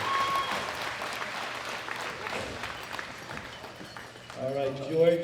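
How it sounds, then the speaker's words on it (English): An audience at a world classic powerlifting championship applauds the winners, with steady clapping and crowd noise throughout, followed by a loud voice over the PA near the end. "applause for all of our winners."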